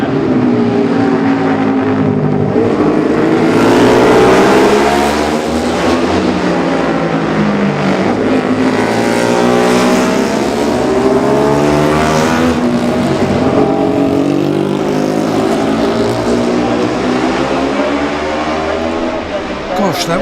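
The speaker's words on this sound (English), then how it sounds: "Another machine comes into view. This is a single cylinder machine" A single-cylinder racing motorcycle in a 2018 Classic TT junior race blares past with a loud, rasping engine note that rises and falls, the roar staying close and continuous for about twenty seconds.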